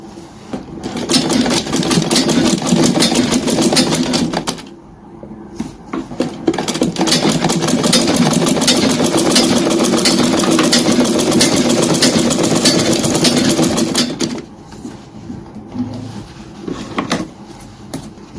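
A sewing machine stitches down the seam allowance of a welt pocket with a flap on a tailored suit jacket, running in fast continuous bursts with a brief pause before resuming, then stopping near the end.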